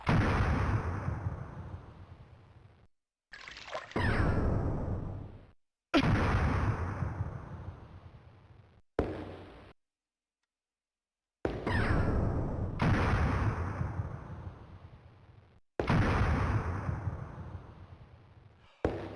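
Fireballs explode in the 1992 game Alone in the Dark: a series of heavy booming blasts, each decaying over a couple of seconds, separated by short silences and recurring about six times.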